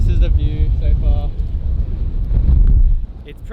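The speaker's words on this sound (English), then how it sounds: "It's pretty windy up here," Strong wind gusts buffet the microphone at a hilltop World War II pillbox lookout in Hawaii, a loud continuous roar that eases near the end, with talk heard faintly underneath.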